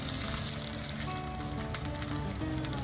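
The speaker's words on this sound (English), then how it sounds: "Put it on a grill pan over medium heat. Quickly sear both sides to set the shape" Koobideh kebab sears on a grill pan over medium heat, giving a steady, dense sizzle and crackle that runs unbroken, close and fairly loud, with no voices.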